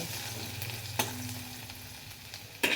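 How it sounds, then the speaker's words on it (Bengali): Green chillies, dried red chillies and chopped garlic stirred while frying in a pan, a quiet continuous sizzle with a few soft scrapes and a louder clatter near the end, close by with no talking. "বেশ খানিকটা রসুন কুচি দিয়ে দেবো। ভালো করে আমি নেড়ে চেড়ে নেব।"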